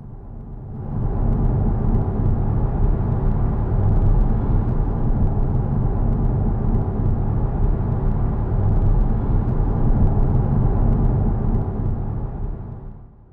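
A car on a long drive gives a steady low engine and road drone that fades in, holds evenly for about ten seconds, then fades out, with no voices.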